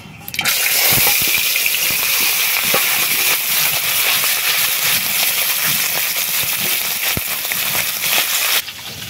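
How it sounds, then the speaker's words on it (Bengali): Loud, steady hiss of frying in hot oil starts abruptly and continues throughout with crackling pops, then drops near the end. "তেলের মধ্যে মাছ দিয়ে দিচ্ছি।"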